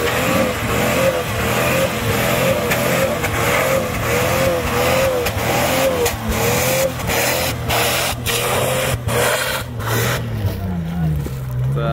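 Jeep Wrangler TJ driving off-road in sand, its engine droning and revving continuously up close, with rising and falling pitch under steady rumbling and scraping noise.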